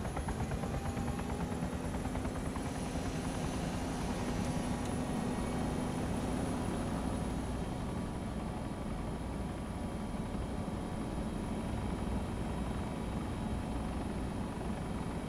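A British military helicopter in a video game: steady rotor thump and turbine whine hold close and loud throughout, with an engine drone and a high whistle above.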